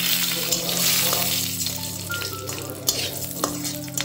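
Radhuni spice tempering sizzles in hot oil for tomato dal, a steady close crackle and hiss with a few scraping stirs and small pops, no voices.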